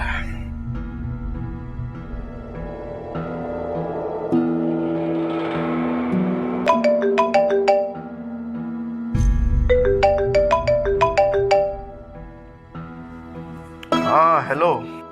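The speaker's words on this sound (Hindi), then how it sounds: "असद मैं कितनी देर से कॉल कर रही थी, क्यों नहीं उठा रहे थे?" A phone ringtone plays a melodic electronic tune in repeated bright phrases over several seconds, loud and close, with background music underneath in a Hindi-language drama scene.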